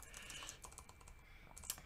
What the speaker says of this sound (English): He's typing furiously.